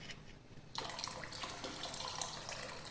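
Dissolved custard powder being poured into milk, heard as a sudden steady liquid splashing stream that starts partway through and keeps flowing, close by with no talk.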